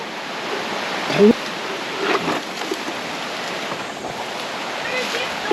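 Steady rushing flow of a shaded river among farmland in Bagac, Bataan, a continuous broadband wash running throughout with a few brief voices rising over it.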